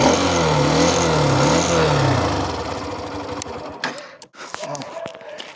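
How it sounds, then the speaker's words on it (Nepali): Engine of a Hero Xtreme 125R motorcycle, about a year old, idling steadily up close with a sewing-machine-like tick, then cutting out into a few irregular clicks and knocks. "ठ्याक्कै 1 वर्ष हुँदाखेरि यसको इन्जिनको आवाज सुन्नुहोस्"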